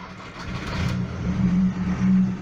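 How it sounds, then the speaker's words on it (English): A 2007 Ford Mondeo 2.0 TDCi diesel with an excessive smoke fault runs close by, its steady low engine drone swelling into a couple of brief revs. "Let's start the car again."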